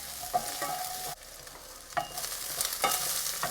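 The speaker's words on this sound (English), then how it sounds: "I'm going to add the chopped up ginger and garlic and continue to cook this for a minute" Chopped ginger and garlic sizzle with golden fried onions in a pan for a spinach chickpea curry, with crisp frying hiss and several stirring scrapes close by, and no one talking.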